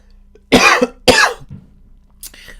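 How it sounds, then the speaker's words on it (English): Two sharp, close coughs in quick succession, followed by a softer throat sound and a brief faint noise. "This cough just came up a bit."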